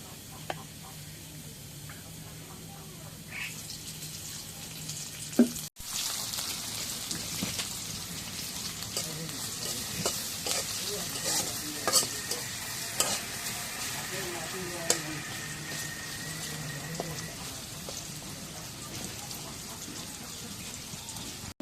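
Onion sizzling in oil in a wok, a steady, rain-like hiss of frying that starts with a sudden burst and continues with occasional pops and stirring clicks, no voices.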